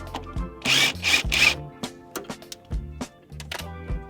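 A power tool spins off the top nut of a suspension drop link on an Abarth 500, sounding as several close, rough whirring bursts broken by short clicks and pauses.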